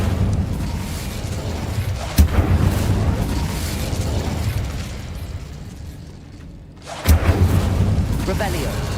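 Incendio fire spell cast in a video game, a sharp burst followed by a sustained roaring whoosh of flame, then a second loud burst near the end over busy game background sound.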